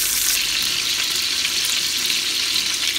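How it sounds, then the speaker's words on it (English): Filet mignon searing in a cast iron skillet, giving off a loud, steady, close sizzle with no pauses and no talking. "want to hear that sizzle"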